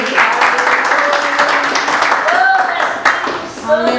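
A church congregation applauds during a worship service, with steady clapping under singing and voices, close and fairly loud throughout.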